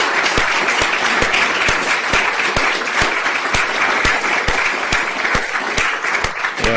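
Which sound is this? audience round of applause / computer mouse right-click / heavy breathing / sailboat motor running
audience round of applause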